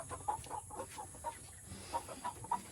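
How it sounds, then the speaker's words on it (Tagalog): Hens and newly hatched chicks on a farm, soft repeated clucks and high peeps in an irregular series, fairly quiet and close, with no talking. "Ayun may mga bagong pisa pala. May sisiw na ito mga kabayan."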